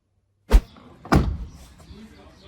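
A car door is shut twice: two sharp, close thuds about half a second apart, each followed by a brief rattling decay, with no speech.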